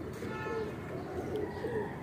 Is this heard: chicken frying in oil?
no